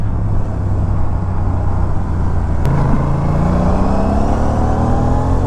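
A motorcycle engine with a GPR titanium full-system exhaust drones steadily while riding in the city, its exhaust note rising as it speeds up, with constant wind and road rumble.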